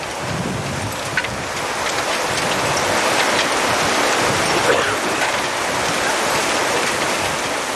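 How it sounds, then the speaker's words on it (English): Hail pelting down during the Andover/Wichita, Kansas F5 tornado storm of April 1991: a loud, steady, dense hiss of impacts with a few sharper knocks standing out, and no clear speech. "Now the hail's coming."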